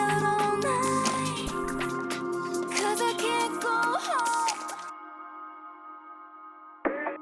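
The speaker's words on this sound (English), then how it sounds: "that creates us the nice sweepy transition" A produced transition effect in which a dense, layered music mix sweeps and trails off as reverb and high-pass EQ automation thin the low end, leaving a lingering high tonal tail and a brief final swell.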